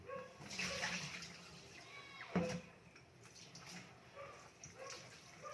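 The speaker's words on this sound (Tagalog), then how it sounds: "i-ready natin guys yung bangos. Hugasan na natin." Milkfish (bangus) is rinsed under running water for sinigang, a faint splashing and trickling wash with handling noises, fairly quiet throughout.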